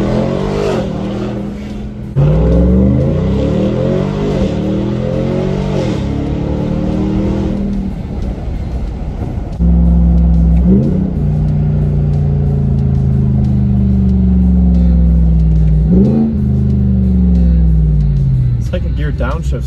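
A straight-piped, supercharged Ram TRX pickup with its resonators deleted accelerates hard on the road, its loud exhaust climbing through repeated gear pulls with rising engine tones and brief pops between shifts.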